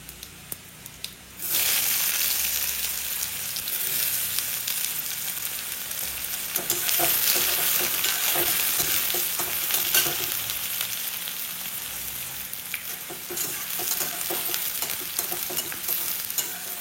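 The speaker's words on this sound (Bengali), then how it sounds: "তেল গরম হয়ে গেছে, দিয়ে দিলাম তেজপাতা আর দিয়ে দেবো জিরা, দিয়ে দেবো পেঁয়াজ" Bay leaf, cumin and onion fry in hot oil, starting with a loud burst of sizzle that settles into a dense, continuous crackling hiss, with stirring scrapes throughout.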